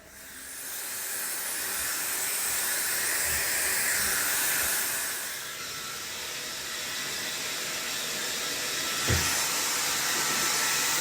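A hair dryer blows with a continuous airy whir, close by, briefly dipping in intensity midway and then resuming steadily.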